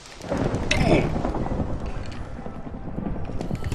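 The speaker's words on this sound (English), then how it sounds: "And I got thunder." Thunder rolls in the video game Minecraft: a deep rumbling crack swells early, then fades into a steady storm wash of rain and low rumble.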